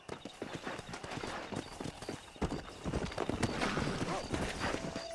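In the Red Dead Redemption video game, a horse gallops with quick, steady hoofbeats that stay close and clear throughout, along with occasional snorts and game ambience.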